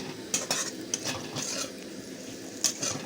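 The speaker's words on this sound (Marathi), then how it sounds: "धीमे आचवरतीच भाजायचे, म्हणजे आपले बोंबील चांगले भाजतात" Dried bombil (Bombay duck) roasting in a pan over a low flame, heard as soft scraping and stirring with a few sharp metallic clinks against a quiet background.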